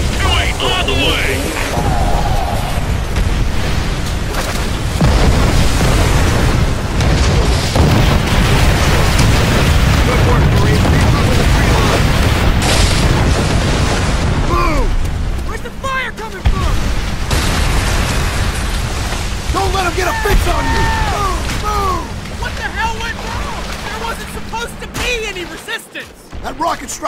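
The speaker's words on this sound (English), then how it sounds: "Call in those rockets!" Rocket artillery barrage in Call of Duty: World at War, a long run of loud, dense explosions and rumbling booms that stay heavy for about fifteen seconds before thinning into scattered blasts, with shouted voices over the battle.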